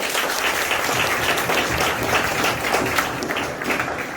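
Sustained, dense applause from an audience at an environmental awareness talk at a medical college, a steady wash of many hands clapping at even loudness with no voices on top.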